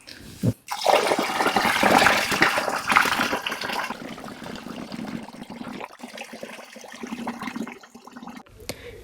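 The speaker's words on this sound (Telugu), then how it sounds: "దీంట్లో మొత్తం వేసేసి నీళ్లు పోసి" Water pours and gushes into a plastic fermentation bucket for rice wine, a loud rushing fill that eases and trickles before stopping.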